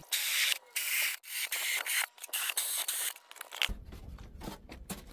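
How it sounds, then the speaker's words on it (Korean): A styrofoam box is pierced and scraped to make holes for a vertical garden planter, giving loud, close rasping and crunching bursts for about three seconds, then softer scratchy handling noises. "이렇게 해서 한번 구멍을 뚫어 볼게요."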